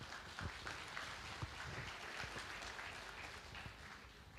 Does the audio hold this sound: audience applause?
yes